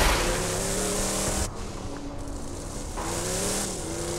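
A car drives in the Borderlands 2 video game, a loud continuous engine drone with harmonic whine that dips briefly and shifts pitch, no voices.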